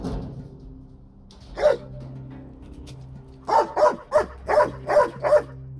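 A military commando dog barks, one lone bark followed by a quick run of six loud, close barks against a quiet low background hum.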